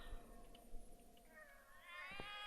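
Cats meow and caterwaul in the video game The Cat Lady, with a drawn-out, rising wail building near the end over a quiet, murky background.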